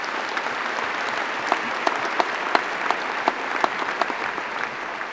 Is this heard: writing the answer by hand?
no